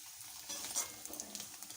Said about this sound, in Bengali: বাকি পনিরগুলো গরম তেলে দিয়ে দিচ্ছি